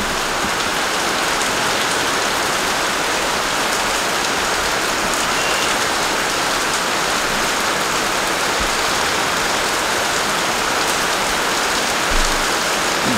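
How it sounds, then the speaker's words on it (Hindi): Steady rain falling outside a home, a dense, even hiss of drops on surfaces that holds unbroken at a constant loudness from start to finish, with no voices. "और बारिश शुरू हो चुका है।"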